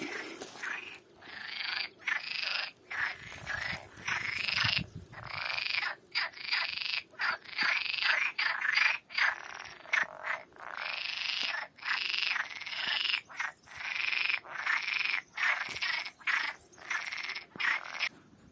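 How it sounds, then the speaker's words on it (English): Frogs croak in dense, rapid pulsing bursts, a loud continuous chorus with brief pauses between trains of calls, nearby and alone without talk. "And we've got a lot of frogs."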